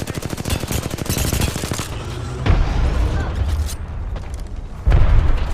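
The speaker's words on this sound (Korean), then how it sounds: "수류탄" Apex Legends match with a grenade going off among gunfire: rapid shots crackle in the opening seconds, then heavy low booms hit around the middle and again near the end, loud and close.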